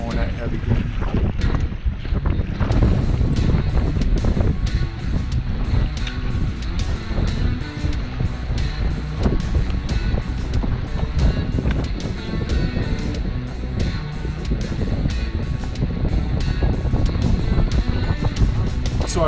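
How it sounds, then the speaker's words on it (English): A sailboat towing a heavy dinghy runs through gusty wind, giving a steady roar of wind and water rushing past, with a voice speaking over it. "The boat would power up nicely in the gusts and then slow down in the lulls."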